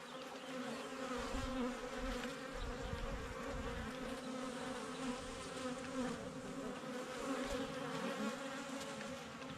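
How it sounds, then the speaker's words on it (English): Bees buzzing around a small garden, a steady droning hum from several insects flying nearby, faint and continuous with slight swells as they pass. "There's a bunch of bees flying around."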